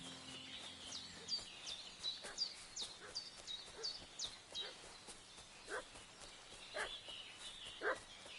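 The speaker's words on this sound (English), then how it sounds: "What's that dog making such a fuss about?" Dog barking in the medieval video game Kingdom Come: Deliverance 2, a run of repeated barks at moderate distance over steady ambient game sound with bird chirps high above.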